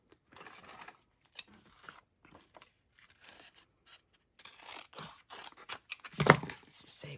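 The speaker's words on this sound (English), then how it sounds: "then we just need to cut this out" Scissors snip around a traced circle in tracing paper for a card-making craft, with sparse close crunching cuts that thicken into a louder, rapid series of snips and paper rustles near the end.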